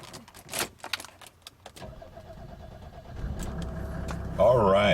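A 1987 Mercedes-Benz SDL diesel engine cranks briefly after some clicks and handling noises, then catches and settles into a loud, steady diesel clatter close by.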